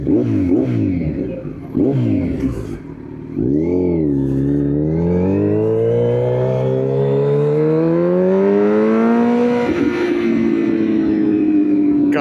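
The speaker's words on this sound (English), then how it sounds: "I love the way this bike sounds." A motorcycle engine while riding out at sunset in downtown Pensacola, close and loud, its pitch climbing steadily through long accelerating pulls with brief drops at gear shifts, no talking.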